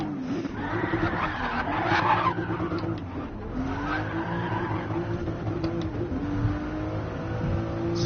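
A Toyota Supra engine revs and accelerates with rising and falling pitch, with some tire squeal mixed in, loud and continuous.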